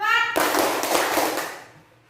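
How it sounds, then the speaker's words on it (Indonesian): A classroom of students claps together in a counted rhythm, a dense burst of hand claps that starts right after a brief voice and fades toward the end. "tepuk 1, tepuk 2, tepuk 3, tepuk 4"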